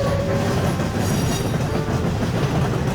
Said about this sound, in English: Alfred, the new engine, was taking some fuel tankers underneath the bridge.